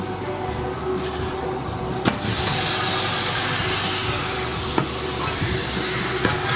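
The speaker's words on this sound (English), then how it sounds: "I'm going to start steaming a pan of asparagus." Vulcan commercial kitchen steamer cooking a pan of asparagus, a continuous broadband steam hiss with a low hum underneath, punctuated by three sharp clicks or knocks, and no talking.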